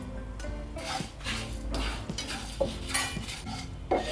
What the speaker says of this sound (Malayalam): നമ്മുടെ മസാലയുടെ മണം വരുന്നത് വരെ ഇതൊന്ന് വറുത്തെടുക്കാം.